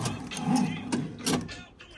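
A broken-cable window regulator being slid out of a 2004-2008 Acura TSX door, brief rattling metal scrapes and clunks close by, with someone talking over them.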